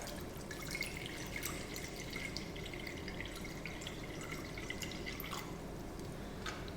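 Water runs into a bowl as 300 ml is poured for sourdough, a steady trickling and dripping stream that stays fairly quiet and even throughout, with nobody speaking.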